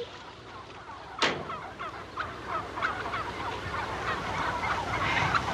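A flock of farm fowl, turkeys or geese, gobbling and calling continuously at moderate distance, with a sharp sudden noise near the start and no talking.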